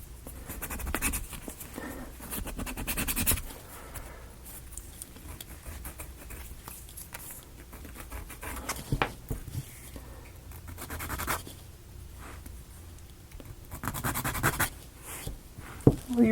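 Wooden pieces of a ROKR mechanical-gear locomotive model are hand-sanded in intermittent bursts of scratchy rubbing strokes. The sound is close and moderately loud, with quieter pauses between passes.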